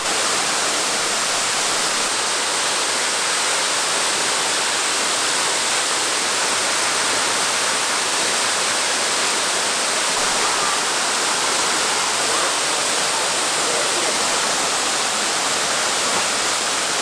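A mountain waterfall roars in a steady, dense, unbroken hiss of falling water, loud and close, with no voices over it.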